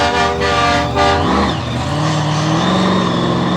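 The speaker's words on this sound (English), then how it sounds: "You hear the horn blaring in the background." At a 2021 monster truck show in Bangor, Maine, a horn blares a sustained tone for about a second over continuous engine roar, which then shifts in pitch as a vehicle revs.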